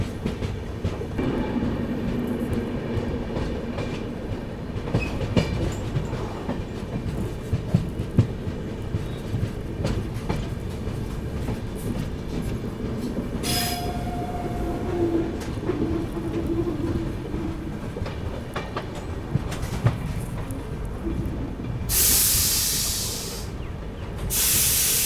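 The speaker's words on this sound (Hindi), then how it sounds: "ट्रेन अपनी पहुँच रही है ज्ञानपुर रोड पे।" A 13047 Vibhuti Express passenger train rolls steadily over the rails on its approach to Gyanpur Road, a continuous rumbling clatter with hissing bursts of air near the end.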